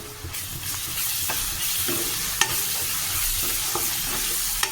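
Fresh ginger-garlic paste fries in hot oil for an eggplant curry, a loud continuous sizzle broken by occasional sharp scrapes and taps of a spoon stirring the pan, no voices.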